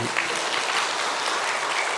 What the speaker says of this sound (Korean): 박수를 쳐도 괜찮습니다.